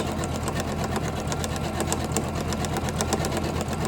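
A Janome 500e embroidery machine stitches a brick-stitch design onto a Halloween napkin, giving a steady, fast, close-up mechanical whir with a rapid even needle rhythm that runs without pause.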